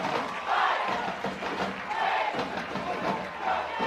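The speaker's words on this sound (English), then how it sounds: "You heard the roar from the crowd" Crowd roaring at a high school varsity football game after a Post Falls touchdown, a loud sustained cheer with swelling surges across the whole stretch.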